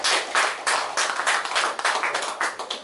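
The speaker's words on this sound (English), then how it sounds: "Let us clap for Jesus." Church congregation clapping for Jesus, a brief burst of loud, close hand claps in an uneven, rapid rhythm with no voices over them.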